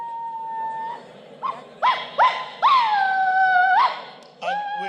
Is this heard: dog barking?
yes